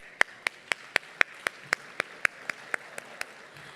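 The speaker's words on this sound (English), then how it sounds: "Let's give them all a round of applause." Applause at the 2018 Los Angeles County Quality and Productivity Awards: about fourteen evenly spaced single claps, crisp and close, like one person clapping steadily for a few seconds.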